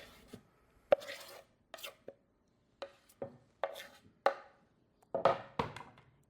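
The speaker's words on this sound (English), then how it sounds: "I'm going to be dicing up my peppers. Peppers going in." Peppers are diced for a salad with a knife striking a cutting board in a dozen or so sharp, irregular chops, close and crisp against near silence.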